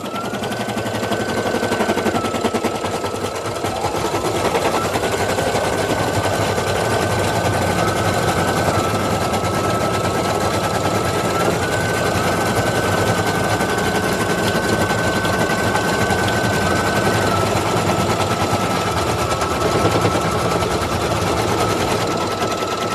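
Two embroidery machines stitch together in a steady, loud mechanical whir with a rapid needle rattle and a faint high whine, running continuously throughout with no talk.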